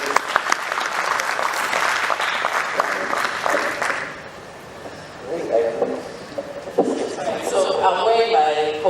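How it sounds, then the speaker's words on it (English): An audience at a forum session claps for the panelists, a loud burst of applause that fades midway, then picks up again into a second round. "Please, a round of applause for the"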